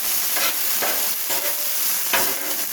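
Onions sizzle steadily and loudly on a Blackstone 36-inch griddle. The frying is broken by a few scraping stirs, and no one speaks.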